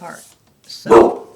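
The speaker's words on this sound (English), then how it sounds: "that's my dog guarding the house" A house dog barks once, guarding the home, a single loud, close woof heard just after a person speaks briefly.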